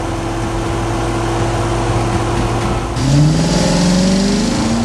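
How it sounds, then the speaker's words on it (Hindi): Cartoon police cars and ambulances speed past along a roadside: a steady engine rumble gives way midway to a louder rush with rising tones as the vehicles sweep by, and no one speaks. "सड़क के किनारे पुलिस की गाड़ियां और एम्बुलेंस तेजी से गुजर रही हैं।"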